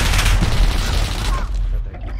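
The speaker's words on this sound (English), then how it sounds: "Grenade out!" A loud grenade blast and gunfire in the Call of Duty video game, a heavy booming rumble with crackling shots that fades out over about two seconds, with voices underneath.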